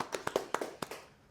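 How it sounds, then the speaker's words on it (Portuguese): A small audience welcomes a guest on a talk show with a few scattered, crisp hand claps, about seven distinct slaps spread over a second, fairly faint, with no talking. "Palmas para ele."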